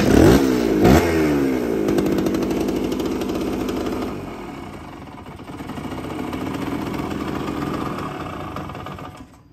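A Kawasaki KE 125 motorcycle engine, just washed and slow to idle steadily until warm, runs loud and close. It opens with a few revs and then settles into an uneven, rumbling idle.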